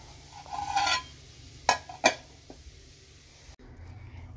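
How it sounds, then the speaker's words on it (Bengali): Spices are tempered in hot oil for boiled lentil dal, heard as a short sizzle and stirring, then two sharp clanks of a utensil against the pan, with quieter kitchen noise between. "ডালটা সেদ্ধ হয়ে গেছে, এবার ফোড়ন দেব।"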